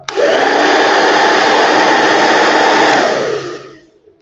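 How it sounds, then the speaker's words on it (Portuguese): A hair dryer switched to maximum speed and heat blows loudly and steadily up close for about three and a half seconds, then winds down as it is switched off. "pega esse carinha aqui, o secador, e faz isso aqui"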